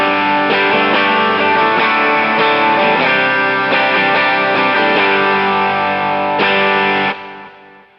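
Electric guitar played through a Kemper Drive pedal with the slim down control at zero and definition up: thick, saturated distorted chords ring loud and sustained for about seven seconds, then cut off and decay.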